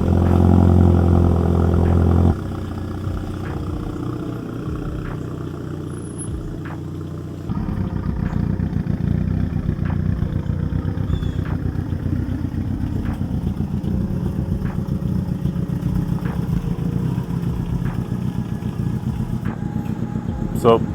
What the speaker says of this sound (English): So Evo started. I'm just letting it warm up for a little bit